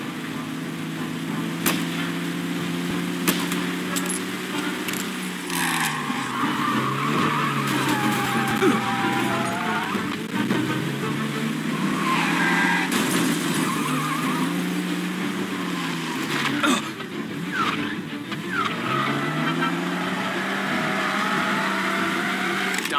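Cars skidding during a chase in the video game Mafia Definitive Edition, a continuous roar of engines with squealing, swerving tire noise throughout, loud and close.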